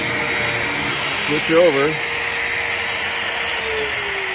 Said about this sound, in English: I'll shut the dust collector off